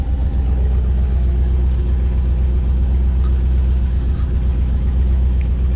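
A C4 Corvette engine idling just after a fuel pump replacement, a loud steady low rumble close by with no revving, holding even throughout.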